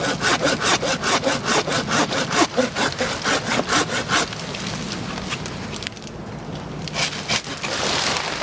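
A handsaw cuts through a mango tree limb in steady, rapid back-and-forth strokes, loud and close, then slows and tapers into softer rustling as the cut finishes.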